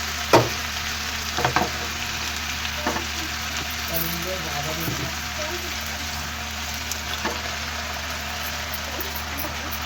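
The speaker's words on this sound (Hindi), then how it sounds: "तो इसी पैन में हम अदरक लहसुन का पेस्ट भून लेंगे। थोड़ा सा ऑयल और डालकर एक तरफ।" Ginger garlic paste fries in oil in a pan, a faint steady sizzle with a few soft clinks and scrapes early on, no speech over it.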